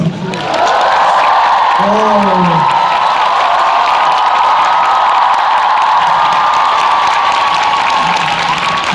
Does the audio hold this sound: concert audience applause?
yes